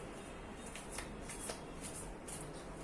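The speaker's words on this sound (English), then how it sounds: "Right now I'm shuffling cards for you guys." Tarot cards being shuffled close by, a soft continuous riffle with light papery flicks over a steady background hiss.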